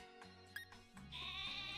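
A sheep Pokémon's cry from the video game Pokémon Sword, a short synthesized bleat with a steady buzzing tone that wavers and swells, repeated in two or three connected phrases, loud and close with no talking.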